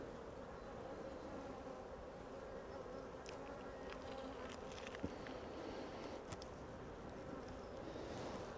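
Honey bees buzz steadily inside an open hive during an inspection, a dense, continuous hum close by with a few faint clicks and knocks over it.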